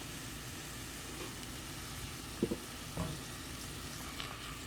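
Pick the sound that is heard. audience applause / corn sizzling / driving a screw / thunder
corn sizzling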